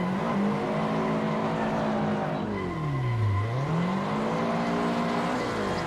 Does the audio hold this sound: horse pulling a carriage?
no